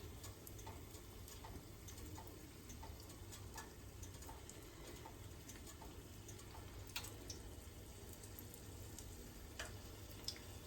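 Steady, quiet sizzling and crackling of homemade corn dogs deep frying in hot oil, about three at a time, with occasional small pops and ticks throughout.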